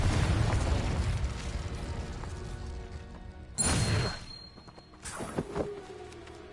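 Booming explosions from a fire-blast spell in a Harry Potter video game: a long rumbling blast at the start, then a sharp burst near the middle and another crash toward the end, with no voices.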